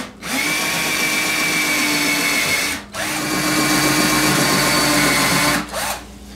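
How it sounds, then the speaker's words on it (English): A power drill pre-drills screw holes through a steel door, its motor whining in two long, steady bursts with a short pause between them. The drill is close and loud, and no one speaks. "I'm going to go ahead and pre-drill these screws that go in this metal door."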